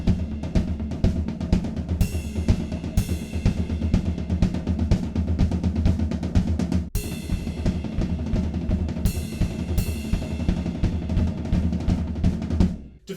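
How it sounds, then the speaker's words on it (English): Drum kit pattern for a song: steady rapid 16th notes on the floor tom over a quarter-note kick drum, with a couple of loud crash cymbal hits ringing out, played up close. "So we're just playing 16th notes over on the floor tom, quarter notes on the kick drum, and a couple of crash cymbals here and there."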